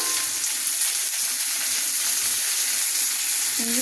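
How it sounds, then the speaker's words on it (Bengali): Vegetables and capsicum fry lightly in a little soybean oil, making a steady, even sizzle with a hissy wash and no clear pops, while nobody talks. "অল্প পরিমাণ দিয়ে এই যে সবজিগুলো একটু হালকা ভেজে নেব এই যে সাথে ক্যাপসিকাম দিয়ে দিলাম"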